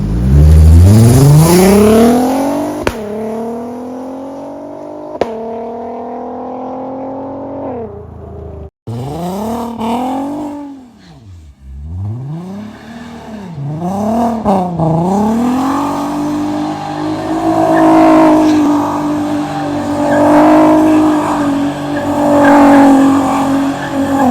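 A car engine revs up and down repeatedly, rising and falling in pitch, then settles into a steady driving drone; loud and close, no talking.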